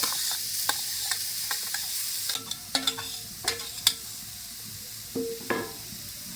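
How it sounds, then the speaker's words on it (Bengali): Grated carrots fry in hot ghee for carrot halwa, with a steady soft sizzle broken by repeated scraping strokes of a spoon or spatula against the pan, close and clear with no voices. "গাজরগুলো দিয়ে ভালো করে ঘিয়ের সঙ্গে কিন্তু নাড়াচাড়া করে একটু ভাজা ভাজা করে নেব"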